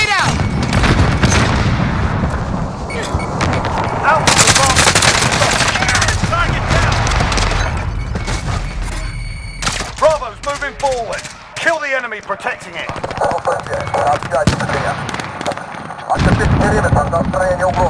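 A grenade blast amid heavy gunfire in a combat firefight, with dense bursts of rapid shots and booming impacts, loud and close, continuing almost without pause while voices call out over the noise.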